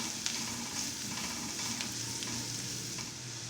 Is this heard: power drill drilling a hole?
no